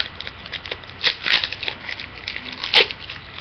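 A foil packet of eye gel patches is peeled open by hand, giving a few brief crinkly tearing and crackling bursts at close range over a quiet background.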